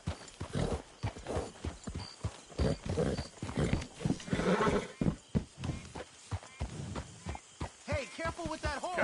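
A horse in Red Dead Redemption 2 snorts and whinnies among heavy hoof thuds and stamping, with people talking over the commotion and a high neigh near the end.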